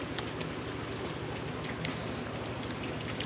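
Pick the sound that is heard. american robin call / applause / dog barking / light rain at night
light rain at night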